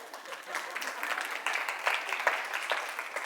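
Audience applause at a conference breakout session with a mindset coach, a dense patter of many hands clapping steadily and fairly loudly for about three seconds, with no one speaking.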